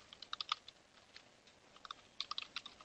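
Close computer keyboard typing of a systemctl status command at a Linux shell, in two quick bursts of crisp key clicks separated by a short pause, with no voices.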